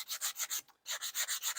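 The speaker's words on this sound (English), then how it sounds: "I'm just sanding off those edges" A sanding block rubs the edges of a wooden pumpkin in quick, even back-and-forth strokes, close and crisp, with a short pause midway before the strokes resume.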